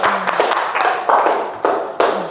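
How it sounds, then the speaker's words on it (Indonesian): A twelfth-grade class in an Islamic studies lesson claps hands briefly, a handful of loud, uneven, close claps with small gaps between them rather than a full ovation. "Tepuk tangan."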